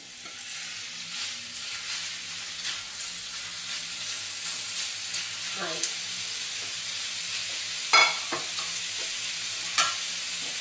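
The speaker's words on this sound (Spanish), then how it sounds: "Y ahora lo que vamos a hacer es ya pues poner la carne a sofreír." Turkey meat frying in a pan, a steady soft sizzle with occasional stirring clinks and scrapes, quiet and close, with faint background clatter and brief voice sounds.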